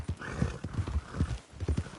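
Rapid rhythmic hoofbeats of a galloping horse in the video game Red Dead Redemption 2, close and steady, with a brief whinny mixed in.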